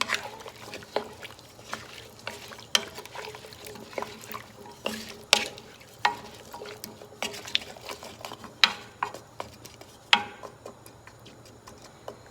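Diced potatoes and vegetables for hash stirred with salt and pepper in a pan over medium heat, a steady run of soft scraping taps and light crackle close up, no voices.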